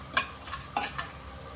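Fenugreek seeds dry-roasting in a pan for a drumstick pickle masala, heard as a few light scraping stirs and soft rattles over a low sizzle, close by with no talk.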